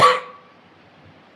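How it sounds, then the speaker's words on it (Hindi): A single short, sharp cough from a lecturer during a Hindi-language talk, loud and close at the very start, then fading quickly into near silence. "तो क्षमा चाहूंगा, खांसी आ रहा है।"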